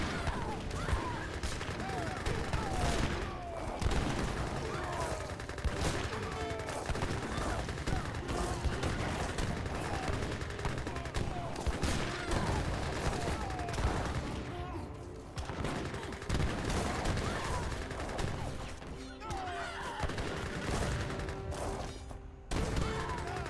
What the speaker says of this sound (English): Look at those Gatling camels get to work there